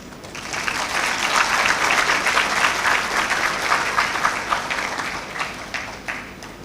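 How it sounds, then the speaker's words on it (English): Sustained applause from a large audience at a university graduation congregation ceremony honoring the graduates' parents, swelling quickly and holding steady for several seconds before thinning out toward the end. "Let us recognize their contributions with a clap."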